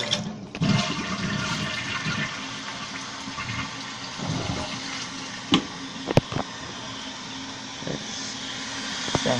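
A 1995 Vitromex Marathon toilet flushes in a loud, continuous rush of draining and refilling water, with a few sharp clicks and clunks from the tank.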